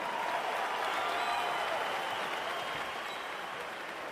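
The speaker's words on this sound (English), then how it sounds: "Round of applause for these two world-class warriors." A boxing crowd applauds after a ten-round Lomachenko vs Kambosos fight, a steady, fairly quiet wash of clapping and crowd noise that holds evenly throughout.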